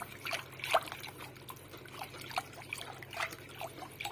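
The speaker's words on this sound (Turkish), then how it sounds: "Şimdi soğuk suyla açıyorum." Cold water trickles into a lentil soup mixture for Turkish ezogelin soup, a faint, uneven dribbling with small splashes heard close up.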